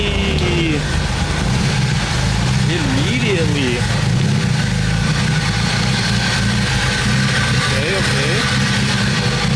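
A high-compression LS VTEC swapped car engine runs at a rough, loud idle with a few small revs, a constant mechanical rumble nearby while a person speaks briefly over it.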